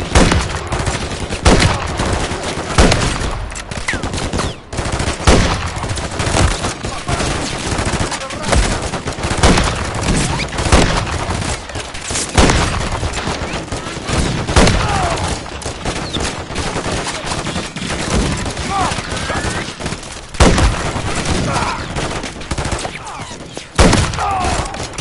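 Sustained automatic gunfire and heavy machine-gun bursts rage through a Call of Duty Modern Warfare 3 battle on a frozen tundra, dense and loud with occasional deeper thuds and snatches of voices under the constant firing.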